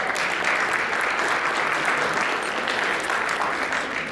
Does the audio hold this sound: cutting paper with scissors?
no